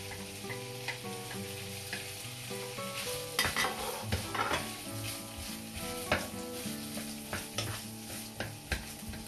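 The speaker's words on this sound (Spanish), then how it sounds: "ahora vamos a echar la cebolla." Onion frying in a pan of oil after browning, a continuous close sizzle layered with frequent spatula scrapes and clicks against the pan, steady throughout with louder stirring bursts in the middle.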